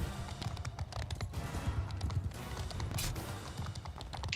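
Horse hooves pound in a fast, steady gallop during a Mount & Blade II: Bannerlord battle, a quiet rhythmic clatter mixed with faint combat noise.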